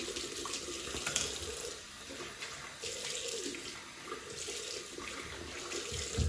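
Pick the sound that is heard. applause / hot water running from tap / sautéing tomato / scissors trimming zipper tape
hot water running from tap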